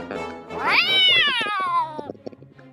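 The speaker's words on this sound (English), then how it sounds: "A cat with sharp teeth and sharp claws jumps up on the table." A single drawn-out cat meow, rising then sliding down in pitch, loud and close, with some light clattering underneath.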